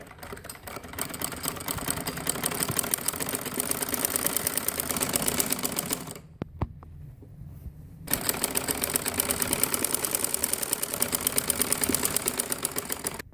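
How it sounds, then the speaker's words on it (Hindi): A sewing machine stitches the hem of a churidar pajama, giving a fast, even mechanical clatter. It runs for about six seconds, pauses for a short quiet gap with a few clicks, then starts stitching again. "अब मैं मोरी की सिलाई करने लगी।"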